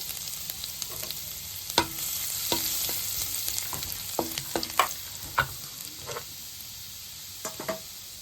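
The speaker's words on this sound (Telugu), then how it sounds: "మనం సన్నగా కట్ చేసిన వెల్లుల్లిపాయ ముక్కలు వేసుకోవాలి." Thinly sliced garlic sizzles in hot butter and oil in a kadai, a continuous frying hiss punctuated by several sharp spatula scrapes and clinks at irregular intervals, close and without speech.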